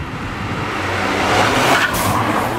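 Volkswagen Up! GTI fitted with a Forge valve, its exhaust giving a steady engine drone that swells slightly midway while the car drives, loud and continuous with no talking.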